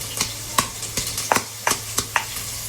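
Ginger and garlic pounded in a mortar, a series of about eight sharp, evenly spaced thuds, close and fairly loud, with no talking.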